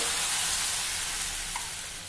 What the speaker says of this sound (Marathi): डावाच्या साहाय्याने हे पीठ आपल्याला तव्यावर घालायचं आहे